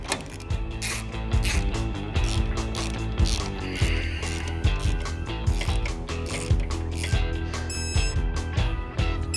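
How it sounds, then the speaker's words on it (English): Ratchet wrench tightening the top, bottom and pinch bolts on a Harley-Davidson motorcycle shock absorber, a steady run of rapid close clicking bursts repeating throughout, with no talk. "Now I'm gonna install the top and bottom bolts as well as the pinch bolt for the bottom bolt of my shock."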